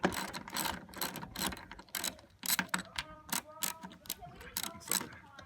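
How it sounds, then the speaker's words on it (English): Ratcheting tool clicking as screws are undone from the roof rail of a 2007-or-later Mitsubishi Pajero, quick irregular bursts of close metallic clicks with short pauses between them. "we're just going to undo the two screws, here and here"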